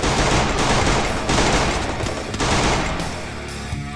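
A G18 pistol fires in rapid automatic bursts in the video game Free Fire. The shots come loud and dense, packed into fast rattling volleys for several seconds before tapering off at the end.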